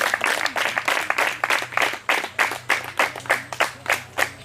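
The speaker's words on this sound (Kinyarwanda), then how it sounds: "mubanze mumufashe tumushimire tumuha amashyi" An audience at a Kicukiro Gahanga celebration claps in a quick, even rhythm of sharp, close hand claps that rise and fall in bursts, with no speech.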